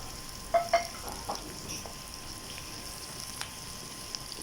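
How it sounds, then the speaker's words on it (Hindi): Chicken, onion and capsicum frying on high heat in a pan, with a couple of short stirring clatters near the start and then a low steady sizzle throughout, no talk. "और अच्छे तरीके से इन्हें फ्राई कर लेंगे तीनों चीज़ों को।"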